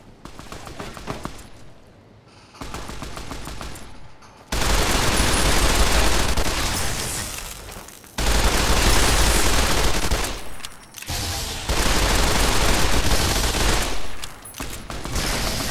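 Sustained bursts of heavy automatic fire from a mounted machine gun in Fallout New Vegas, Lonesome Road, loud and close, broken by short pauses, with a quieter rattle of shots at the start.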